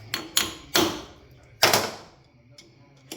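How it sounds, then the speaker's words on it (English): A light hammer taps a 1961 FL Panhead motorcycle clutch in a garage, with four or five sharp close knocks spaced irregularly over a few seconds. "I'm going to give it a little tap."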